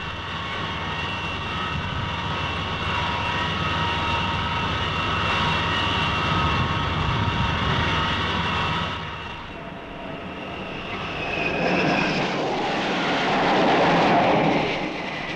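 Jet aircraft roaring off the deck of the carrier USS Constellation by catapult during Vietnam War operations in the Gulf of Tonkin, a loud sustained engine blast that dips briefly then swells again.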